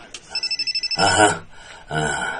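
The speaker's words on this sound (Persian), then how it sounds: "تلفن زنگ میزند" A telephone trills in a quick series of short electronic rings, followed by people talking.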